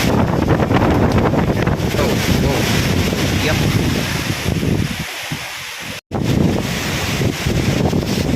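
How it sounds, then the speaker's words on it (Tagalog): Strong typhoon wind roars loudly and steadily into the microphone, buffeting it with constant rumble and hiss, briefly dropping out before resuming; a short spoken word cuts in. Typhoon Kristine, Bicol, Philippines. "lakas ang hangin guys."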